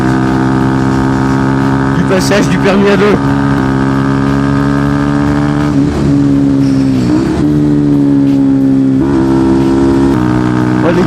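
A motorcycle engine held at high revs, around 5000 rpm, with a loud, steady droning tone that dips and climbs slightly as the throttle shifts, while someone talks over it in French.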